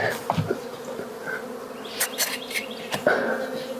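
Bees buzz close by at a horizontal beehive on a homestead, infested by hive beetles, with several individual buzzes rising and fading in quick succession over a low background hum.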